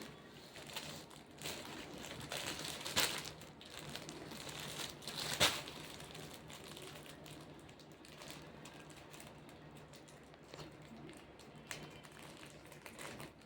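A plastic-wrapped T-shirt package, an anime Solo Leveling shirt, is opened with faint, irregular crinkling and rustling of the packaging, a few sharper crackles standing out, close by and quiet, with no speech.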